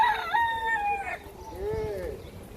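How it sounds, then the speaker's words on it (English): A rooster crows at moderate distance in a public park garden with chickens roaming freely, a wavering call followed by a second fainter, lower crow, with open outdoor ambience. "You've got chickens running about all over the place."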